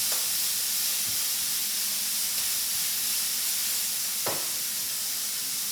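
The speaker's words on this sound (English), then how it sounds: "saute all of that together and then add the rice" Rice and vegetables sautéing in a pan for kimchi fried rice, a loud continuous steamy hiss and sizzle with a couple of brief clatters from stirring.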